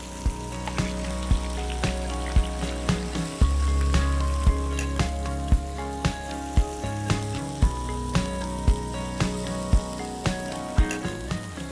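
Chicken pieces placed in hot oil sizzle loudly and steadily, with a thick, continuous frying hiss broken by regular sharp ticking clicks and a louder surge partway through.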